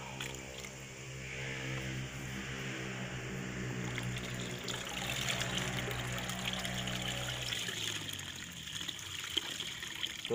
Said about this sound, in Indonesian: Ya, diaduk rata ya. Sampai benar-benar larut.